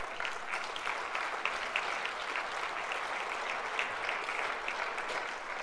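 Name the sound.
congress audience applause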